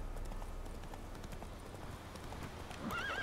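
A horse gallops in the video game The Witcher 3: Wild Hunt, a steady, continuous run of hoofbeats at constant loudness, with a brief whinny-like tone near the end.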